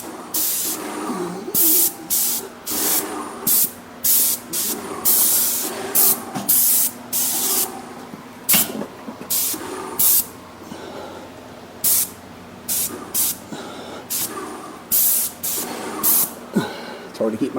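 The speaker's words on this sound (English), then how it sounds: "I think I might spray these corners a little bit." Graco Magnum Project Painter Plus airless paint sprayer spraying house corners, heard as loud, close hissing bursts of a second or two each, broken by short pauses and repeated many times.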